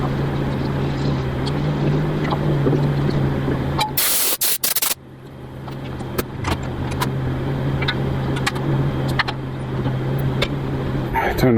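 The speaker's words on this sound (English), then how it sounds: "I have a fan going, blowing air out this way" An electric fan runs steadily behind a person painting, giving a constant airy whoosh with a low steady hum, briefly interrupted by a loud rattling burst near the middle.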